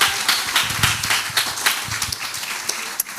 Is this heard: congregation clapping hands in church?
yes